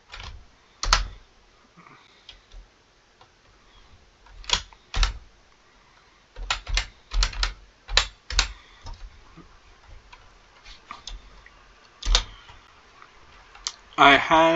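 Keys on a computer keyboard click in scattered bursts and single taps, sharp and close in a quiet room, with long pauses between clusters and a faint voice now and then.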